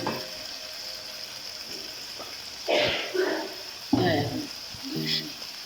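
Several short bursts of loud sizzling and hissing flare up one after another over a quiet background as oil is poured onto hot coal set in a vegetable and chicken dish.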